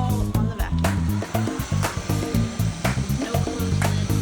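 An iRobot S9+ robot vacuum runs with its bin held down by a golf ball, a steady motor whir broken by rhythmic low thumps and clatter, close and loud, with no talking.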